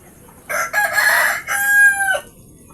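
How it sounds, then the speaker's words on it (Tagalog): A native manok labuyo rooster crows once up close, a clear cock-a-doodle-doo of about two seconds with a brief break midway, over quiet surroundings. "dito po hindi ko po sariling manok, kundi pinapahiram lang sa akin ng aking kumpari na si Milty Katuka"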